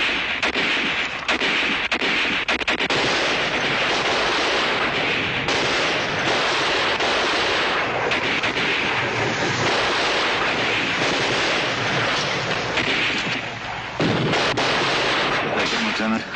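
Sustained heavy artillery barrage in a war TV drama, a dense continuous roar of overlapping booming blasts and rumble at full loudness, with a brief dip near the end.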